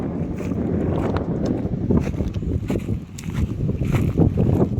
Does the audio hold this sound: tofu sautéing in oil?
no